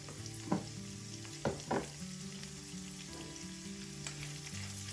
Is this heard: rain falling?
no